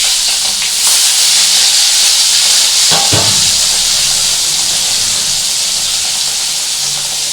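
Pieces of katla fish fry in hot oil, producing a loud, steady close-up sizzle and hiss that runs throughout, with a brief clatter partway through and no voices.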